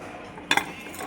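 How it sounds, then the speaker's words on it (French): Two quick ceramic clinks as deep plates and dishes are handled in a discount home-goods store, short sharp knocks close by against a quiet background. "Alors, vous avez des assiettes creuses."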